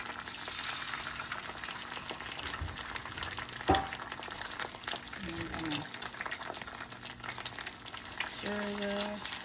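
Scrambled eggs frying in canola oil in a hot HexClad pan, a steady soft sizzle with scraping stir strokes; a few brief clunks and tonal kitchen beeps break through near the end.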